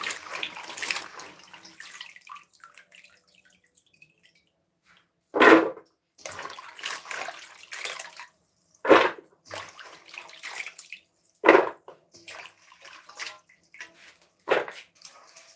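Coconuts washed under running water, heard as a few sharp bursts of splashing and gushing between quieter dripping and handling sounds, with no talk.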